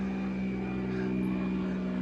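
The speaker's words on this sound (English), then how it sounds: "or someone's private airplane going over top" A private propeller airplane passes overhead, a steady, fairly faint droning hum with a constant low tone that carries on unbroken throughout.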